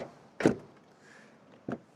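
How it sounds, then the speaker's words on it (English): The light door of a Toyota Aygo X Hybrid shuts with a short, solid thud, followed about a second later by a softer second knock, both close by in a quiet setting with no talk. "And then door closing sound already."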